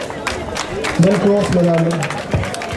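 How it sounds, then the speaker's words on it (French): An outdoor crowd gives a light patter of clapping for women's trail race podium finishers, partly masked by an announcer speaking loudly over a PA. "On peut les applaudir."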